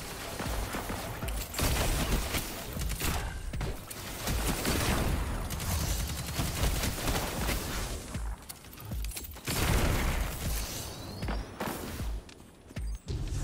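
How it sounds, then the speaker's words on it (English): Sustained rapid gunfire in Destiny 2, dense bursts of shots and impacts rolling on nearly without pause, loud and close with no talking. "He's shooting me."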